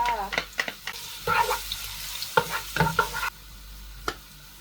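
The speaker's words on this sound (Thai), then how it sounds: "ใส่กระเทียมลงไปเลยจ้า" Garlic fries in a wok for prawn fried rice, a busy sizzle broken by scraping and stirring clatters, ending suddenly in quieter room noise with one last knock.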